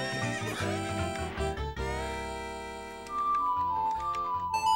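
Epona the horse neighing in the video game The Legend of Zelda: Ocarina of Time, a loud whinny followed by snorts and a falling tonal call, with bright game music chimes and no talking.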